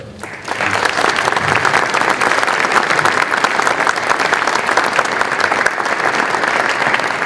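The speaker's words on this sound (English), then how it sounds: "that person, I think, deserves a round of applause also" Loud, dense applause from a concert audience honoring the festival photographer at a military band concert, swelling in after a brief lull and holding steady throughout.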